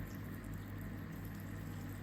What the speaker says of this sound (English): pour a lot of water